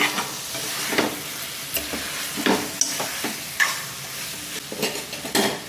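Country chicken curry simmers in a pot while a spoon stirs it, giving a close, wet sizzle with irregular scraping and sloshing strokes every second or so, no voices.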